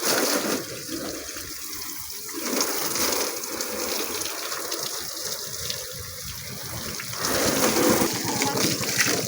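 Water sprays in a steady hissing gush onto an Ola electric scooter being washed, continuing for several seconds with slight surges and pauses, with no clear talk.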